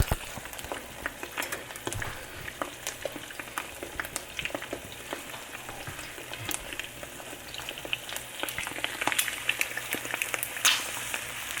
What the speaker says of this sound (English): They're cooking. It was clear, now the eggs are getting cooked.